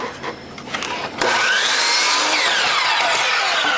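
A miter saw, set to zero miter with bevel kept, cutting crown molding laid flat: a quiet spin-up, then a sudden loud whining bite into the wood that holds steady and close until the end.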